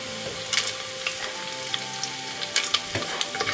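Whole spices such as cardamom, cloves and peppercorns fry in hot ghee, giving a steady close sizzle with scattered crackles and pops throughout.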